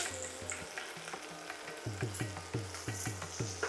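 Asafoetida sizzles steadily in hot oil, overlaid by a regular rhythm of spoon taps against the pan as it is stirred, fairly close and with no voices.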